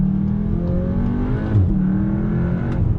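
Car engine under load with induction roar and turbo whoosh, a steady close drone that swells slightly mid-way, no talking.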